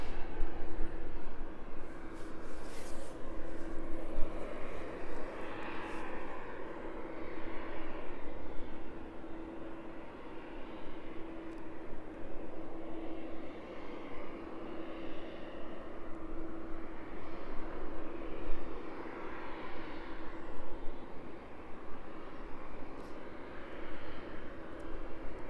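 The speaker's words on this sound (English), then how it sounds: "The Embraer though just touching down." An Embraer jet touches down at East Midlands Airport, its engine noise a steady, moderately loud rumble and whine that continues evenly with no voices.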